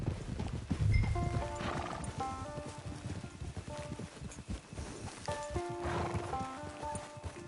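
Video game horse hooves clip-clop steadily at a walk, up close, while whinnies and a snorting neigh break through over a background of ambient music.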